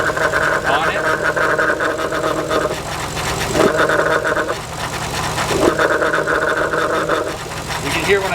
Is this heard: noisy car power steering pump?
yes